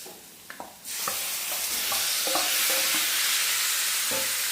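Chicken pieces drop into a hot pan of sautéed onion masala and burst into a loud, continuous sizzle, after a few light clinks of a utensil, while occasional stirring scrapes sound under the hiss.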